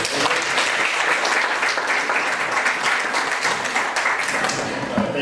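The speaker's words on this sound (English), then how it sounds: "let's welcome, with a round of applause, Mr." Sustained, dense clapping fills a hall as an audience welcomes Aaron Winston to the stage, loud and even from start to finish with a faint murmur of voices beneath.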